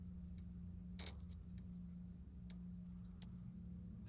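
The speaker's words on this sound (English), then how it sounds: "Molten Freddy has some popping and clicks." Molten Freddy in Five Nights at Freddy's gives off sharp, sparse pops and clicks, a handful of crisp transients spaced irregularly over a low steady hum, faint and without voices.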